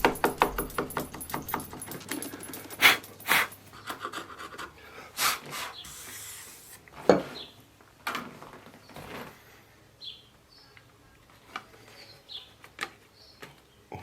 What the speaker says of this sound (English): I drop the chisel into the marking gauge cut, and then I'll just push this down, and then I'll work along the line and define that edge